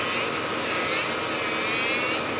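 Electric nail file fitted with a sanding band, grinding down artificial nail product during a manicure; a steady, continuous high-pitched whirring rasp, close and loud throughout with no voices.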